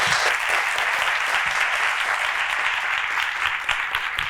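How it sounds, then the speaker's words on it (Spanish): An indoor audience at a Spanish tech talk claps steadily, a dense continuous wash of hand applause lasting several seconds without any speech over it. "Un aplauso."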